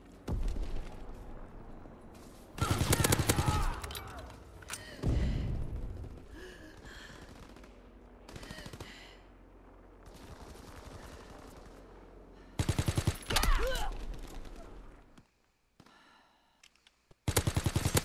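Type 100 submachine gun fire in the World War II shooter Call of Duty, loud close automatic bursts in several separate volleys with short gaps, plus other game effects between them.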